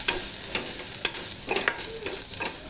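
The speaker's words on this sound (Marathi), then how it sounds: "त्यानंतर लसूण, अद्रक, कांदे, टमाटे छान असं 5-7 मिनिट परतून घेऊया" Garlic, ginger, onion and tomato sauté in a pan, giving a steady bright sizzle with repeated scrapes and taps of a spoon stirring close by.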